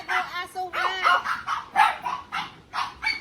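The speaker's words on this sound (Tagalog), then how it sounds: "Ay, mga aso nyo, walang tigil oh" Neighbors' dogs bark and yip nonstop in repeated bursts, fairly close and loud, with a person talking over the din.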